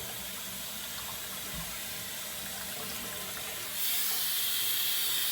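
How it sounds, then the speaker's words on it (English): Running water from a bathroom vanity tap, with a thin trickle draining down the sink overflow; a steady close hiss that grows louder and brighter near the end. "You can see that the overflow is now trickling down"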